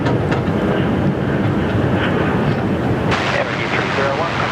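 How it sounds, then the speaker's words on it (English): A Boeing 787 airliner rolls along runway 34 right at Sydney Airport, giving a steady, fairly loud engine roar with some wind buffeting on the microphone. "we got a cheeky little 787 that's just crept in there on runway 34 right"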